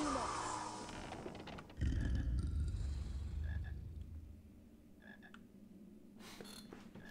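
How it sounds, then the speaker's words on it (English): Frog croaking in an old Harry Potter video game, a few short croaks repeating at a moderate distance over a low game background rumble. "I hear another frog somewhere."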